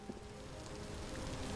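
Rain in the video game Vintage Story falls as a soft, even hiss of drops that stays steady and faint for the whole moment, with nothing else over it.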